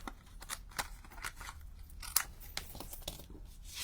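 Scissors snip through card during card making, a run of short crisp cuts in an uneven rhythm, close and fairly quiet, with no talking.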